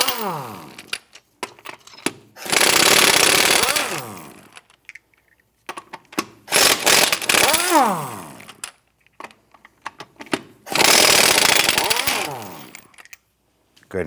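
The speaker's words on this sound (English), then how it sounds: "Using a 21 millimeter socket, let's go ahead, loosen and remove these lug nuts." A power tool, likely an impact wrench with a 21 mm socket, loosens and removes the wheel lug nuts on a 2008-2013 Nissan Rogue. It comes in three loud, separate whirring bursts with quiet clicks and handling noises between them.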